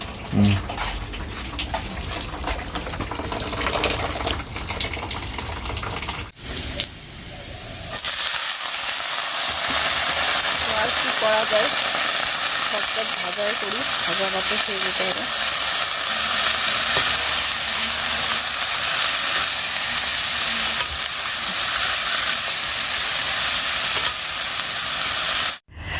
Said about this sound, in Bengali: ভাত আর বাঁধাকপিটা এখানে ভাজা করে